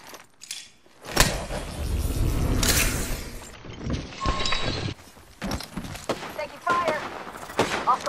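Bursts of automatic gunfire and single shots in the video game Apex Legends, loud and close, punctuated by sharp metallic clatter and brief gaps between volleys.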